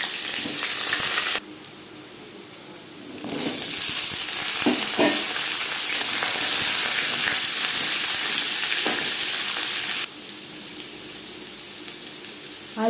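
Potato pieces frying in hot mustard oil give a steady, loud sizzle that runs throughout, swelling and crackling after the potatoes drop in, with occasional stirring clatters and no talk.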